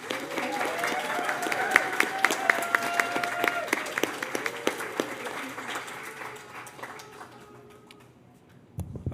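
A graduation ceremony audience gives a round of applause, dense and steady for several seconds. The clapping then thins and fades toward the end, with faint tonal sounds and murmurs beneath it.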